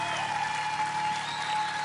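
Studio audience applause on a Spanish-language children's game show, a steady, dense wash of clapping filling the short stretch with no talk over it.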